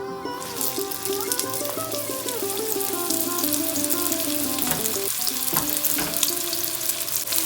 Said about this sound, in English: Now I'll fry the onions on high flame, and the intent is to make them a nice light golden.